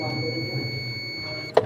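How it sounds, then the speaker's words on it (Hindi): A multimeter's continuity buzzer sounds during a test of a double-door refrigerator's sensor: a steady, thin electronic tone holds for about a second and a half over low room hum, then stops with a sharp click. "अपना कंटिन्यूटी के ऊपर बजर मोड में जाएंगे और बजर बजा के चेक करेंगे"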